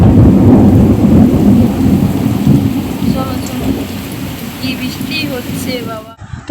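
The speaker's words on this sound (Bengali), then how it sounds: "কি বৃষ্টি হচ্ছে" A loud downpour roars through a thunderstorm, with deep rumbling thunder at the start easing into steady heavy rain, and faint voices in the background near the end.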